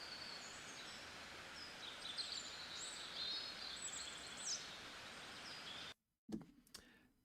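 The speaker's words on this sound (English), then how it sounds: "we have birds in spring in Scotland." Spring birdsong in Scotland fills the air with faint, distant chirps and warbles over a soft, steady outdoor hiss, then cuts out abruptly, followed by a brief rustling sound.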